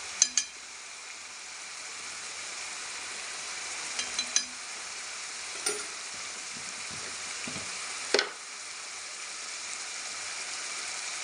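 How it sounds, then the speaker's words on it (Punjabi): Green chickpeas frying in a pan with dry spices (chilli, salt, turmeric) being mixed in: a steady bright sizzle throughout, broken by a few faint scraping clinks of the spoon. "ਮਸਾਲਿਆਂ ਨੂੰ ਆਪਾਂ ਚੰਗੀ ਤਰ੍ਹਾਂ ਮਿਕਸ ਕਰ ਲੈਂਦੇ ਹਾਂ"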